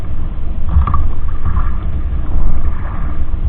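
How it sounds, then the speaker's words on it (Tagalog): Steady, strong wind at sea roars and rumbles continuously across the microphone, with low buffeting and a faint hiss throughout. "gumaguspos na yung hangin dito sa spot namin"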